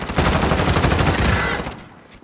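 Loud, continuous automatic gunfire in Call of Duty during a Search and Destroy match, a close, rapid rattle of shots that holds steady and then trails off at the end, with no one talking.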